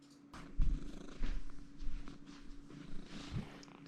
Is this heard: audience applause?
no